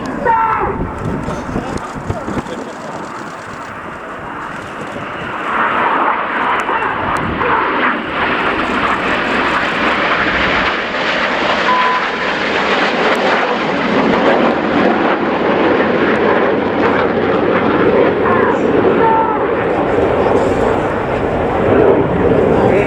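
Red Arrows jets flying a rollback manoeuvre at the RIAT air show at Fairford, a loud, sustained jet engine roar that swells and holds steady overhead for the whole stretch, with a commentator's voice over the crowd.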